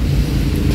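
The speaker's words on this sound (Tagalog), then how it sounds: "Hangin dito." Wind blows outdoors among pine trees at a hillside farm, a steady rumbling gust buffeting the microphone for under a second.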